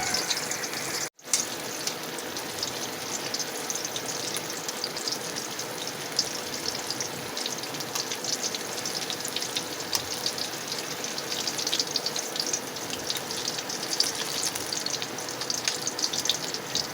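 Dried squid fries in a pan during a home breakfast cook, giving a steady, close crackling sizzle that runs the whole time without pause except for a brief dropout near the start.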